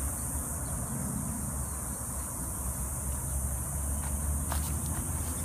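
Cicadas buzz outdoors in a constant, high-pitched drone over a low, steady rumble of distant freeway traffic, with a few faint clicks near the end.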